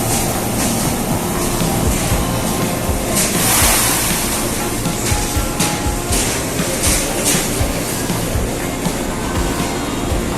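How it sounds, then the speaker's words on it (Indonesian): An Indonesian commuter train pulls into a station bound for Bogor, giving a loud, dense, continuous roar and rumble of wheels and cars with hissing bursts throughout and no clear gaps. "Kalau kereta yang sebelah kanan baru tiba."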